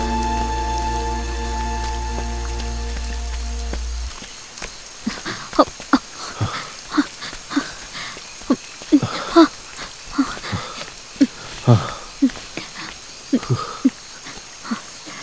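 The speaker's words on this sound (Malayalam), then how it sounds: "മഴയൊന്ന് തോർന്നിട്ട് നമുക്ക് പോകാം കേട്ടോ." Rain falls during a movie scene, sounding as scattered, sharp drips and splatters that begin once a steady sustained tone fades after about four seconds, with no talk.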